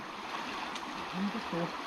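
Water flowing around a fish trap in a stream keeps up a steady close rush, with brief low splashes toward the end.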